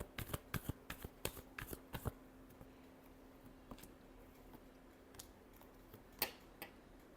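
Tarot cards being shuffled by hand in a quiet room, with a quick run of crisp riffling snaps at first, then sparse, soft flicks and taps.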